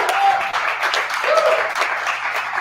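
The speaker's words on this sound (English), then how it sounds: "Please give your loudest round of applause right now for Hannah Skews" A live audience at a storytelling fundraiser breaks into steady, dense applause for a storyteller, a continuous wash of clapping that stays loud throughout with faint voices and a brief whoop mixed in.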